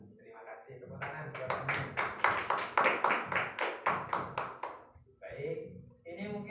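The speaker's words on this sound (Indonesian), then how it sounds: "Terima kasih, tepuk tangan." A classroom audience at a university teaching session in Banda Aceh, Indonesia, claps in a burst of roughly a dozen quick rhythmic claps that swell and fade, with brief voices before and after.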